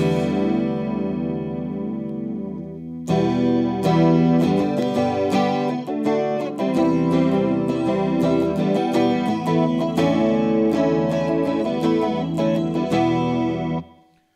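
An electric guitar plays chords and riffs through a LEKATO PA1 pocket amp's multi-effects presets, with chorus, distortion and echo. The tone changes partway through, and the playing is loud and continuous.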